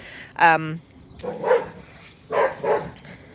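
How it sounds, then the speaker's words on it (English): A dog barks near a backyard vegetable garden, with one sharp, loud bark followed by a few further yelping, barking sounds a little farther off. A voice may be mixed in. "I'm hoping the dog stopped barking."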